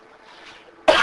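A single sharp cough bursts out loudly during a lecture on Hindu worship and Tantra, after a near-silent stretch of faint background murmur, ending the clip.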